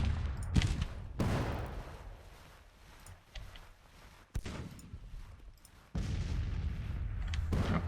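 Cannon and musket fire from the strategy game Grand Tactician: The Civil War, with heavy booms and sharp reports breaking through at intervals over a low rumbling battlefield bed.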